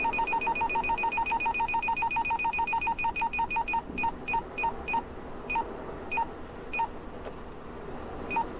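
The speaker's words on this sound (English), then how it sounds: "I hear you, radar detector." A radar detector in a car sounds a rapid series of electronic beeps that slows to spaced chirps, close and clear over a low road rumble, with no talking.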